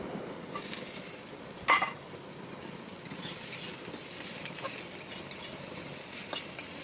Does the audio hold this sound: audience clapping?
no